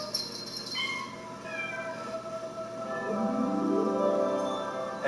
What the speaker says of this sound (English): Cat videos.